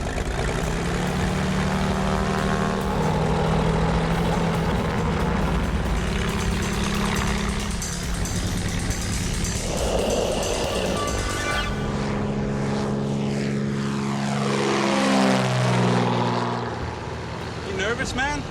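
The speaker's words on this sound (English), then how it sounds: "But as the plane climbs," A skydiving plane's propeller engine drones loud and steady as the aircraft climbs, a dense continuous roar with shifting pitch, and people talk over it inside the cabin.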